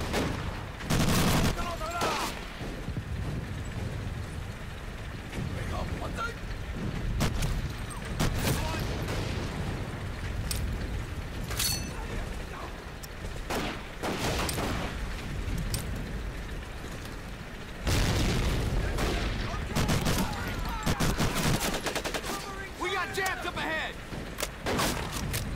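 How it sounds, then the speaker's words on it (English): Enemy gun emplacements pound away in a Medal of Honor Pacific Assault beach battle: dense, continuous gunfire and artillery booms with repeated loud bursts, overlapping machine-gun rattle and distant explosions, and shouting voices mixed in. "Destroy gun emplacements firing on LVGs"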